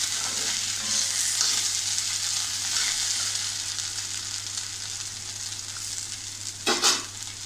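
Okra sautéed in a pan over high heat gives a continuous close sizzle, with a brief scraping stir and louder burst near the end.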